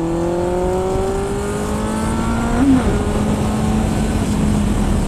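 A Kawasaki motorcycle engine under a rider, holding a steady droning note whose harmonics slowly climb as it gathers speed, with a brief louder burst midway and a constant rush of wind noise, no talk.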